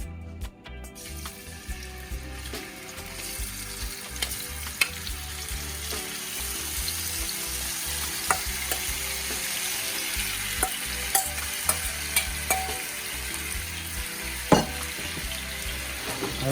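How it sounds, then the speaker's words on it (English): Shrimp sauté in hot oil for Jamaican rundown, a constant loud frying hiss with scattered clicks and taps of stirring, heard close up with no one talking. "But for now, I'm going to saute the shrimp. The oil should be hot right now."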